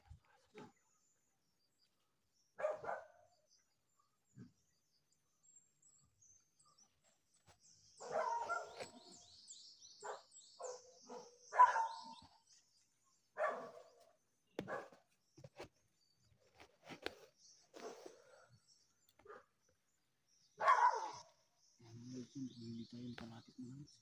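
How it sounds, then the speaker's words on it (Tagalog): A dog barks in short bursts out in the open during a tense search operation, the calls spaced apart and at moderate distance, mixed with bird chirps and a low rumble near the end. "May aso."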